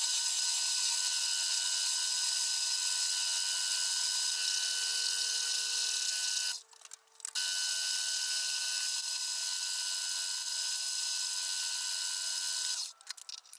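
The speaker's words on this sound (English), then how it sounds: "I can now get the part cut off and then back in the lathe to clean it up." A metal lathe parting off a machined die-holder part: a steady, fairly quiet high whine of the spinning cut that runs alone, breaks off briefly twice and resumes.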